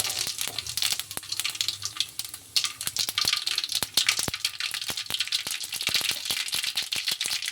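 Cumin and mustard seeds sizzle and pop in hot oil in a kadhai, a dense crackle of sharp, rapid snaps close up without talk.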